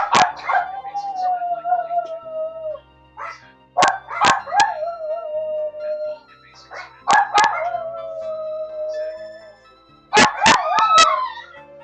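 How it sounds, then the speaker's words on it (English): Dogs bark in short loud bursts, some single and some in quick doubles, each followed by a drawn-out howling whine, spread across the stretch with quiet gaps between. "Why are the dogs barking like?"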